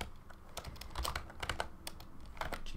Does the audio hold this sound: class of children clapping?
no